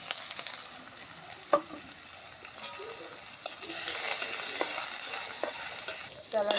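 Dried chillies, cumin, crushed garlic and chopped onion fry in hot oil with a steady close sizzle, broken by occasional clicks of a spatula stirring in the pan, the hiss growing louder partway through.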